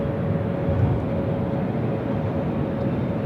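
A Jetstar airliner at Sydney Airport, running as flight 47 to Seoul, produces a continuous low jet engine rumble with a steady tonal hum, moderately loud and unbroken, no one speaking.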